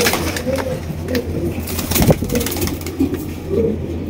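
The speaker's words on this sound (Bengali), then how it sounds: "খুবই সুন্দর একজোড়া চিলা কবুতর আপনারা সংগ্রহ করতে পারবেন" A pair of Chila pigeons at a pigeon sale, giving soft low coos nearby amid background murmur and a passing engine.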